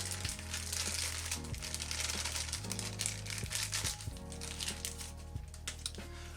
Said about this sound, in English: So let's actually unwrap this.